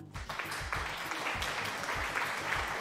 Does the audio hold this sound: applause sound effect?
yes